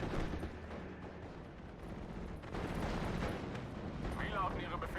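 Gunfire and explosions from the Steel Division: Normandy 44 video game, heard as a dense, continuous rumble of battle noise with booms under it, while someone talks over it.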